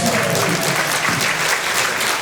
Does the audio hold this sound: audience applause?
yes